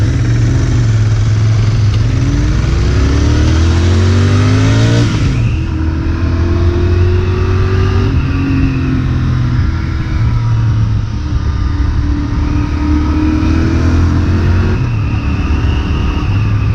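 A Royal Enfield Interceptor 650 motorcycle engine revs up hard, drops back and then revs again in repeated rising and falling sweeps, loud and close, with no voices.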